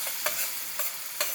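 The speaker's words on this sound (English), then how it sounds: "Then we're going to add a little of our wine, the prosecco." Prosecco poured into tomato sauce in a hot pan gives a steady, close sizzle, broken by a few sharp stirring scrapes at regular intervals; no one speaks.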